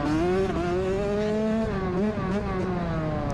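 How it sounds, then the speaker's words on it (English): A race car on a dirt practice track at a county fair, its engine revving up and easing off in repeated cycles, loud and close with rising and falling harmonic pitch and no talk over it. "You can hear you rev it up, let off, rev it up, let off."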